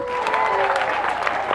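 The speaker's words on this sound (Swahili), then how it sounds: "Tumpigie makofi." Applause from a church congregation at a priest's ordination celebration, a dense, steady roll of many hands clapping close by, with a voice briefly audible beneath it.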